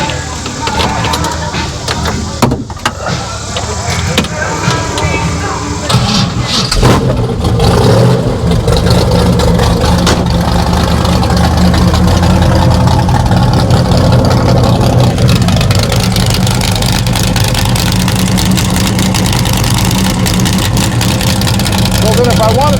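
A 1967 Dodge Coronet R/T V8 fires up and settles into a loud, steady rumbling idle with open exhaust cutouts, close by, with people talking over it.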